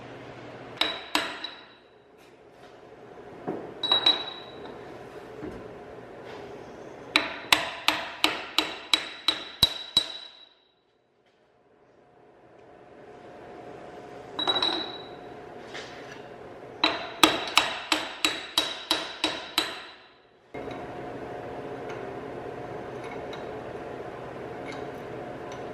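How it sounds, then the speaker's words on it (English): A hammer taps a part into place beneath a 4th gen Cummins truck: bursts of quick metallic strikes, four to eight in a row, repeat between pauses over a low background hum, close and moderately loud. "get up in there with a hammer and just kind of tap it in"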